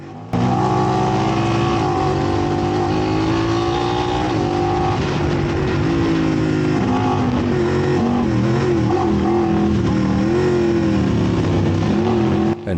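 A Talon X side-by-side with a fully stock engine races in a 12-hour off-road event, its engine roaring loud and close throughout, pitch rising and falling as it revs through gears.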